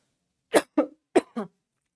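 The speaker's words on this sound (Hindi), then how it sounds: "मैम को खांसी है हल्की सी" Four quick, close coughs in two pairs from a female teacher during a class, sharp and dry, separated by brief silence with no talking.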